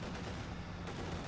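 IS-2 heavy tank main gun firing in Company of Heroes 2, a dense, continuous rumble of battle gunfire with a sharp new blast near the end, loud and without talk.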